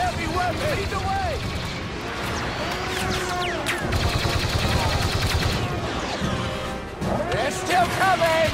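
Star Wars Battlefront 2 battle on Jakku: rapid blaster fire in dense overlapping bursts, with crashes and explosions amid continuous loud combat, and voices shouting under the din.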